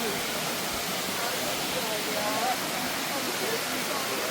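Steady, close rush of falling water at a waterfall on a jeep safari, a dense continuous hiss filling the clip with no breaks, while a faint voice sounds briefly in the background.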